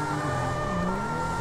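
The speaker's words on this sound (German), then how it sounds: "Blaulicht und Sirene." A police car siren wails loud and continuous in the game Grand Theft Auto 5, its steady electronic tone sweeping up and down over engine hum.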